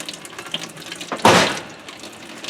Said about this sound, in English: filling up water bottles